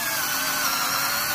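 A power drill whines steadily into the metal body of a diecast Hot Wheels toy car during a restoration, close and loud with a constant high-pitched grinding tone and no speech.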